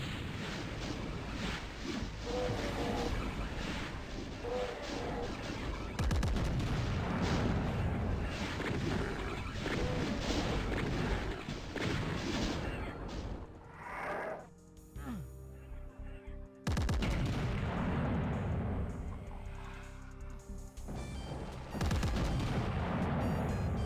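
Rapid, dense gunfire from the perforator weapon in the Doom WAD Eviternity II, map Annihilate Me, rattles almost continuously alongside game effects, with a short lull before the shooting resumes.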